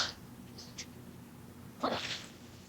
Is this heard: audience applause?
no